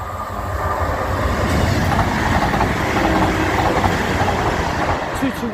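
A CrossCountry passenger train on a diverted Bournemouth to Manchester Piccadilly service, running between Southampton Central and Salisbury in southern England, rumbles past close by with a steady, loud roar and faint clatter throughout.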